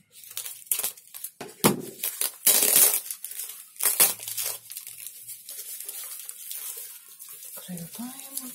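Packaging around a mail-order plant is unwrapped close by: bursts of crinkling, tearing and rustling wrap come in irregular loud grabs with quieter gaps, and a voice is heard briefly near the end.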